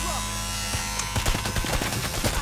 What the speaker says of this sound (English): I've restarted the saw.